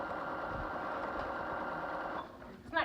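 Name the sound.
sewing machine stitching a quilt block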